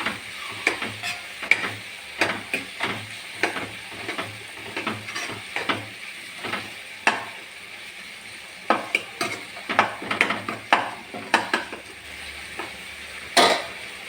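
A spoon stirs narthangai (citron) pickle with asafoetida and fenugreek in a pan, giving irregular scraping strokes and sharp metal clinks against the pot over a faint sizzle, close by and without talk.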